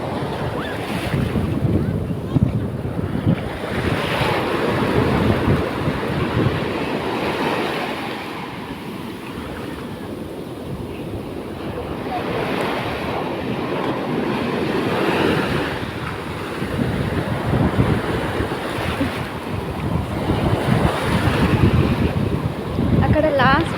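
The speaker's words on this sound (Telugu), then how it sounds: "ఎలా వస్తున్నాయి అలలు, పెద్ద పెద్ద అలలు." Big ocean waves rolling onto a beach, a continuous loud wash of surf with repeated swelling crashes, heavy wind buffeting the microphone.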